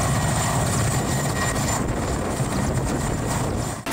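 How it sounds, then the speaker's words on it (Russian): Mi-8 military helicopter flying during a police special forces training exercise, a loud continuous rotor and engine roar that holds steady throughout, with no voices. "поднимаются в воздух на вертолете Ми-8"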